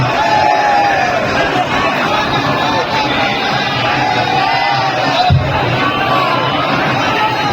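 Dense crowd of people packed into the Banaras corridor, a constant loud roar of voices and shouting filling the space, with an amplified announcement voice carrying over it.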